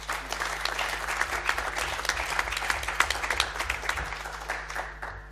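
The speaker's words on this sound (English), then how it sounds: "Well, an applause for Michel Steinweg." Steady audience applause at a literary festival for an introduced participant, dense clapping sustained throughout under a low constant hum, with a faint murmur of voices.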